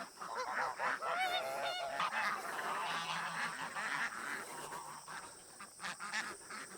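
Ducks and geese on a farm, a noisy flock honking and quacking continuously nearby, calls overlapping in quick irregular bursts.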